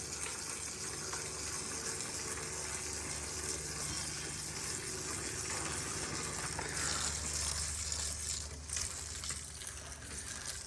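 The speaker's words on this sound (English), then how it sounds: "If you have a little sprayer end that go on the hose, that can work pretty well too." Garden hose spraying water onto an air conditioner condenser, a steady broadband hiss and splatter that holds continuously throughout at close range with no talking.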